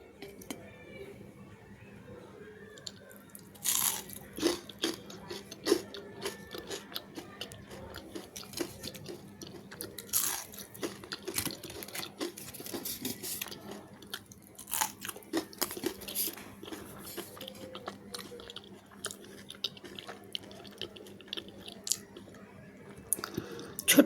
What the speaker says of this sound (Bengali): আমি আজকে ফিশ ফ্রাই খাচ্ছি।